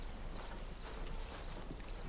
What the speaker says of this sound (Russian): Да это всего лишь пчелы жужжат.